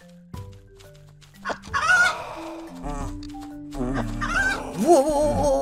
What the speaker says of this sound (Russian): Сзади курица!